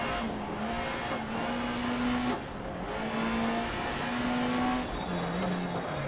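A rally car in Dirt Rally drives a quick asphalt section, its engine droning steadily with pitch rising and falling through gear changes, loud and continuous with no voices.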